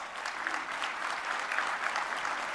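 Audience applause during a speech about a city's ranking for women entrepreneurs, a soft, distant, steady patter of many hands clapping with no voices.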